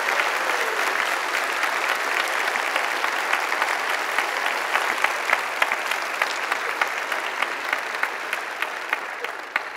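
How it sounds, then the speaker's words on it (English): A church crowd at a hundredth anniversary gathering claps warmly and steadily, a full, even wash of hands with individual sharper claps standing out toward the end before it fades. "a round of applause."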